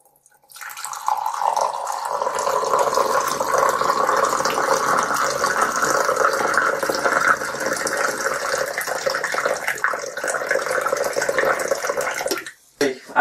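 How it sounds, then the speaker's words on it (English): Coffee poured by hand into a mug, a steady, loud liquid stream running continuously for about eleven seconds before stopping abruptly. "one hand pouring the coffee"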